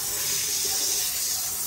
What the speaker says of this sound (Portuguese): aí caiu o fluido de freio